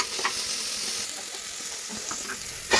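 Frying in a pan for methi pulav: a steady close sizzle with scattered clicks and scrapes of stirring, swelling louder at the very end.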